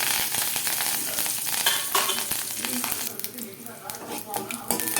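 Mustard seeds and curry leaves crackle and sizzle in hot tempering oil for a ridge gourd chutney, a loud, steady fry sprinkled with sharp popping seeds and faint spoon clinks.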